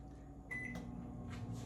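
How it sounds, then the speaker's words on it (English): A microwave oven heating corn on the cob starts up with a clunk, then settles into a steady low hum with a faint rattle, close and quiet. "we're gonna put it right in the microwave just like that. Put it in there for 4 minutes"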